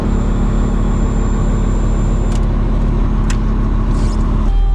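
A truck engine idles after starting, a loud, steady low rumble with a constant hum that carries on evenly throughout, close by.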